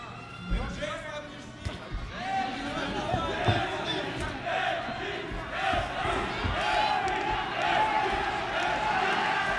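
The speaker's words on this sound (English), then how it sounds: "Crowd getting a little bit more vocal here in Nagoya." A boxing arena crowd in Nagoya grows louder with scattered shouts and cheers during a Naoya Inoue versus MJ Akhmadaliev fight, while a commentator talks over the swelling noise.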